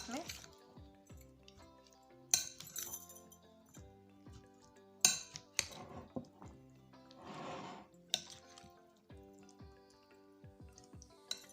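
A spoon stirs lemon into chana chaat in a bowl, giving sparse, close clinks and scrapes of utensil against dish with soft wet squelches between them, over quiet background music.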